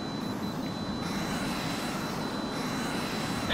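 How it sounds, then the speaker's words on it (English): Jet engines of attack planes roar in the video game HAWX as a steady, dense, continuous drone with no talk over it. "Enemy attack planes are in firing range of the refinery."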